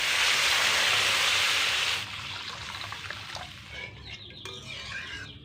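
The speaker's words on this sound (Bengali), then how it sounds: "ঝোলটা খুব সুন্দর করে ফুটতে শুরু করে দিয়েছে" A pot of raw banana curry gravy with chhana bubbles on the stove, first a loud broad hiss for two seconds, then softer steady simmering with faint gurgles.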